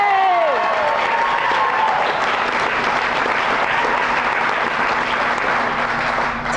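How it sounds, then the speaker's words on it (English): Crowd at a charity rock concert for the troops applauding and cheering, loud dense clapping with whoops, a voice rising over it at the start before the ovation carries on. "And we got a cheering section here."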